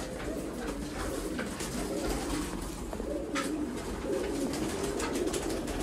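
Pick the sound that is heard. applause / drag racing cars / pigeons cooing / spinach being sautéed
pigeons cooing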